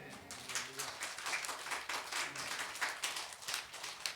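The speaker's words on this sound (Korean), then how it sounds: "우리는 아론과 그의 아들들에게 축하의 박수를 보내고" A church congregation applauding during a sermon: quiet, somewhat distant rhythmic clapping sustained through the whole span, with faint murmuring voices low underneath.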